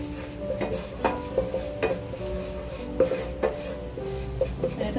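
A spoon works flour into melted butter in a pan, making repeated close metallic taps and scrapes in an uneven rhythm over a low background hum.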